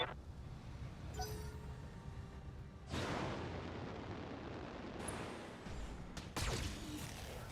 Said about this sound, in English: LRM explosion.